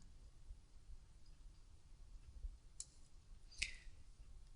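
Two quick, faint computer mouse clicks in a quiet room, a short pause between them, with low background hum.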